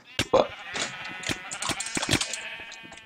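Sheep bleating in the Minecraft game, a few short synthetic bleats repeated in quick succession, fairly close and clear, with occasional faint game clicks around them.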